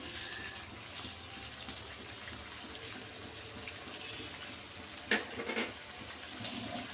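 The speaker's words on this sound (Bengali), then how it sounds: "আবার এই আদা রসুন বাটাটা দিয়ে আরও 5 মিনিট আমি কষিয়ে নেব।" Ginger garlic paste frying in a pan over medium heat for chicken biryani, a steady soft sizzle and bubbling throughout with a brief louder clatter of stirring near the end.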